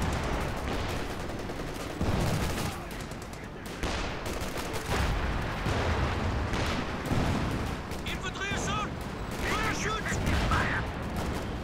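MG34 machine gun bursts rattle in a Company of Heroes 2 1v1 match between US and OKW forces, mixed with other battle gunfire and explosions, while a commentator talks over the action.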